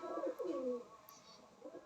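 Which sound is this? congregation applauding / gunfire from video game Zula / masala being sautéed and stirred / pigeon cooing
pigeon cooing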